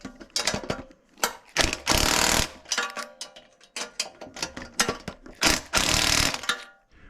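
A hand ratchet on a wobble extension tightens Jeep roof rack bolts, giving repeated close, loud bursts of rapid clicking separated by short pauses.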